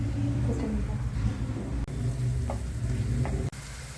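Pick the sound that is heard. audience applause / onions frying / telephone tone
onions frying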